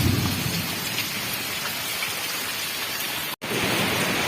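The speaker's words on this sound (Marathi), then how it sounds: "मी आवाजच ऐकताय पाऊस पडतोय भरपूर" Heavy rain pours steadily during a Diwali-season downpour in Sawantwadi, Konkan, a dense continuous hiss with a low thunder rumble beneath it, broken only by a momentary dropout near the end; no voices.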